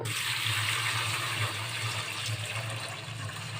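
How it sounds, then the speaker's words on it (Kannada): A steady, full pour of about a litre of milk into roasted vermicelli for sheer kurma, a continuous splashing liquid rush filling the pan close by, with no talk over it. "ಈ ಬಣ್ಣ ಬಂದಾಗ ನೀವು ಒಂದು ಲೀಟ್ರಷ್ಟು ಹಾಲನ್ನ ಸೇರಿಸ್ಕೋಬೇಕು"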